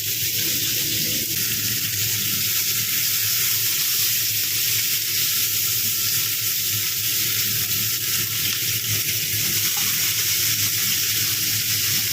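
Panch phoron seeds sizzle in hot oil while a prawn bharta is being cooked, giving a steady, dense, close crackling hiss that runs unbroken the whole time with no talking.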